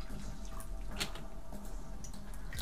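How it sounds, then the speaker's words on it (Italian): Ordinary still tap water pours into a cup, a brief soft splashing trickle with a few drip-like spatters, fairly faint against background noise, with no talking. "prendete quella che è la vostra tazza e gli dovete versare dell'acqua, acqua normalissima, anche del rubinetto"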